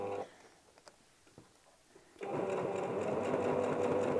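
A sewing machine stitches a ruffle shirt, starting with a few quiet handling taps and then running in a continuous close, loud whirring hum for the last two seconds.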